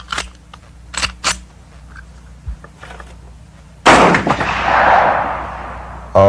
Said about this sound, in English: Now we'll fire one without the suppressor.